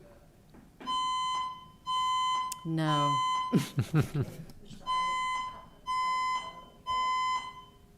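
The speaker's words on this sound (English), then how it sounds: "Fire alarm?" A fire alarm goes off during a city council meeting, sounding as a loud, steady series of repeated electronic beeps in evenly spaced bursts, with people talking over the middle of it.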